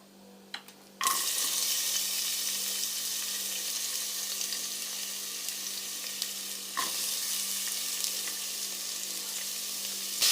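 Onions drop into hot oil already holding cinnamon, bay leaf and three cardamom pods. After a quiet second, a loud sizzle bursts out and continues steadily, with a few faint clinks along the way.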